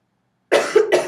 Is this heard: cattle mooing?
no